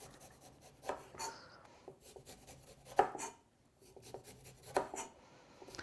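A knife trims white pith from a peeled lemon on a cutting board, giving soft, irregular scraping cuts and a few sharper taps close by, with quiet gaps between strokes.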